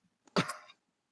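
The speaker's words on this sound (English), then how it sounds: "You guys hear my dog? She's going crazy." A single short, sharp bark from a female pet dog upset by a radio-controlled car, sounding fairly close and clear in an otherwise quiet room.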